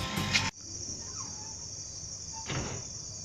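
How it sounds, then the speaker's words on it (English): Insects drone in a steady high-pitched chorus in a jungle at night in Bannerghatta National Park, continuous and fairly faint, with a brief rustle at the start and another soft knock midway. "can you hear the noise of the insects?"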